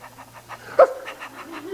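A person imitates a puppy's panting, a fast run of breathy rhythmic huffs close to the microphone, with one louder voiced burst partway through.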